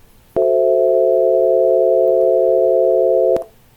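A chord of pure sine-wave pitches from a music theory app sounds as one steady, loud sustained tone for about three seconds, starting and stopping abruptly with small clicks.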